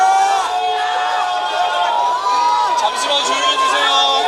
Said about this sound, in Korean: 박수를 치고 환호성을 지르고 있습니다.